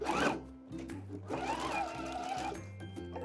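A domestic sewing machine stitches an inset V-point corner seam with a steady mechanical whir and needle chatter, pausing briefly and restarting several times in short bursts, close and clear with no talking.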